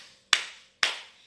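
Two sharp hand claps sound close and alone, about half a second apart, each one a crisp slap with a short decaying tail, keeping time with a children's action song.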